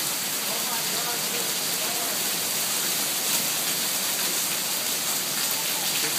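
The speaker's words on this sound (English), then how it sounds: "Look at the hail mm-hmm. going by the camera." A North Las Vegas hail storm gives a dense, steady roar of hail and rain striking surfaces outdoors. The noise stays loud and unbroken throughout.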